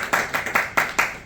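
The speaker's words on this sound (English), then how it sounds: "I will allow the claps." Clapping from a conference audience, about six distinct claps in a steady, quick rhythm, close and fairly loud, with no talking over them.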